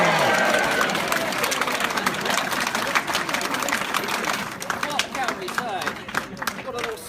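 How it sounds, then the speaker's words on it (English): A crowd at the opening of a science lab gives a round of applause for a tortoise. The clapping is loud and steady, with some cheering mixed in, and it slowly thins out into scattered claps. "So please muster a round of applause"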